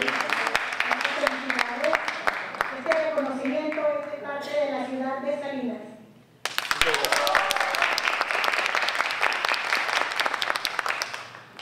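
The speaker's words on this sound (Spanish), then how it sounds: "Así que le damos fuerte aplauso también." A crowd applauds at a Spanish-language community awards event in Salinas, California, dense clapping under an announcer's voice at first, then a brief dip before a louder burst of sustained applause on its own.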